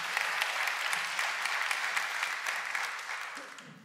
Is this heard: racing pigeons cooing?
no